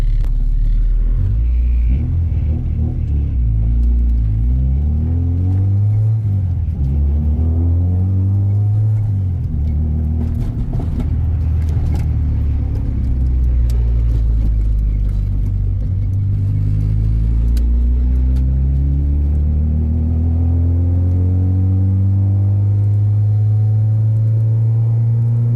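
A 2000 Honda Prelude engine, fitted with AWR Racing engine and transmission mounts, runs up close and loud. The revs rise and fall repeatedly in long sweeps over a deep, steady rumble, with no talking.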